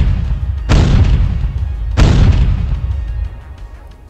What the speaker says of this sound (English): Main guns reloading. And fire.